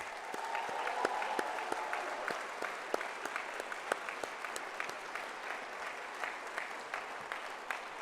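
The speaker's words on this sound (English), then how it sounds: "give you a round of applause for being here" A crowd applauds steadily at a scholars' induction ceremony, many hands clapping in a dense, even patter that continues throughout without voices over it.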